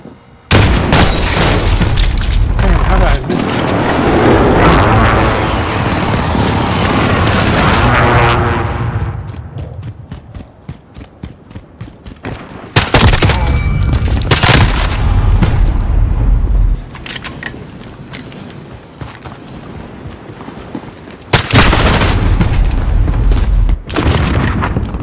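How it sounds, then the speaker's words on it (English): Enemy precision airstrike in Call of Duty Modern Warfare: several loud, booming explosions land in bursts with rumbling tails, separated by quieter gaps before new blasts strike. "Enemy precision airstrike,"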